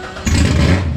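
An engine catches on the first try, cutting from a quiet hum into a loud, steady low rumble that continues to the end.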